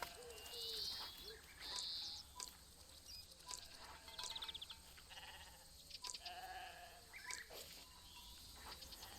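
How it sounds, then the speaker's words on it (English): Sheep bleating in the wildlife adventure game Alba: A Wildlife Adventure, several short bleats heard amid chirping birds and light ambient patter, fairly faint and without talk. "A lot of these weird little sheep."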